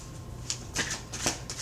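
Tarot cards are shuffled and drawn in several quick, crisp riffling bursts close by, with faint background noise between them.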